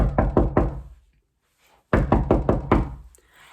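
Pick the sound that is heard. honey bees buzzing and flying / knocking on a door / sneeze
knocking on a door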